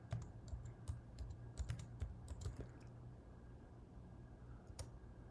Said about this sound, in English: Now I'm going to type in tip calculator.